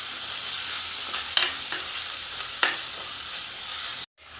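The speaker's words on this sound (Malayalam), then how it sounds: "പിന്നെ കുറച്ച് വേപ്പില ഇട്ട് കൊടുത്ത് നല്ലോണം ഒന്നും കൂടി വഴറ്റിയെടുക്കാം." Green chilies, crushed ginger-garlic and curry leaves sautéing in a pan for a Malabar-style fish curry: a steady sizzle broken by a few scraping stirs, with a brief dropout near the end.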